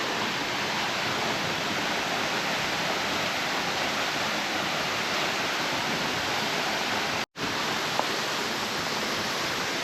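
A partly frozen waterfall in cold Kentucky weather rushes in a steady, dense broadband roar that stays loud and unbroken throughout, with only a momentary dropout near the end.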